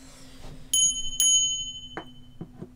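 A small bell, bought as a supposedly haunted flea-market object, rings twice in bright clear strikes that ring on, followed by faint knocks and handling sounds in a quiet room.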